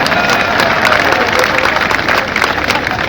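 A large crowd claps steadily at a political rally in Chandrapur, loud and continuous, with a few shouts and voices blended into the wash of applause.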